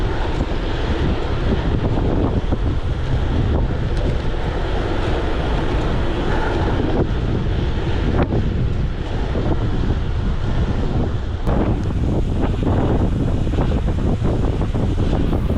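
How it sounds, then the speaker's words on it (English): Strong headwind buffeting the microphone during a bicycle race across an open farm field, a loud constant rumbling roar that continues unbroken throughout, with no voices. "And the headwind was pretty strong at 30 kilometers an hour."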